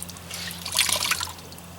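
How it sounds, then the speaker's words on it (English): A damp cleaning rag soaked in Optimum No Rinse solution is wrung out by hand, giving a soft trickle and a few light drips of liquid, close by and fairly quiet, with no talking. "just wring it out, not completely, but enough where it's just got a small drip coming from it"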